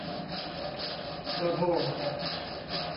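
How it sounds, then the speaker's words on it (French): A steel wire saw with spirally set teeth cuts through wood during traditional Lu Ban woodworking, giving a steady rasping, rubbing stroke that continues throughout, with faint voices speaking underneath. "cet outil qui ressemble à un fil de fer s'appelle la scie de fil d'acier"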